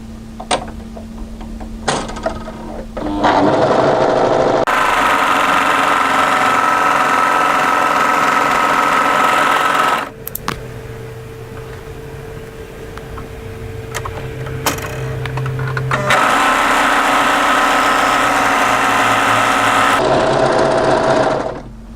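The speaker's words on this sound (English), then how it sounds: "go to your overlocker and tidy up this raw edge here" An overlocker stitches along a raw fabric edge in several loud, fast bursts of steady mechanical whirring, separated by brief pauses and small clicks.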